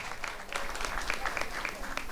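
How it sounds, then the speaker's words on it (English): An audience at a youth civic event applauds steadily, a soft continuous patter of many hands, fairly distant and faint. "Clap it up."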